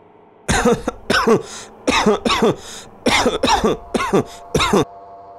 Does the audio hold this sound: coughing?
yes